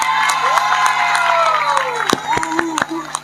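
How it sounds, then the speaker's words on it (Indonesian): Children at an Islamic study session clap and cheer together, with sharp scattered claps and shrill voices under a lively, crowded din that lasts throughout. "Tepuk tangan"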